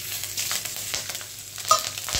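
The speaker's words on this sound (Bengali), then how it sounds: "তেলে দিয়ে দেবো কালো জিরে আর কাঁচা লঙ্কা ফোড়ন।" Black cumin seeds and green chillies hit hot oil as a Bengali tempering for frying a fish head, giving a steady close crackling sizzle with small spits and pops throughout, no voices.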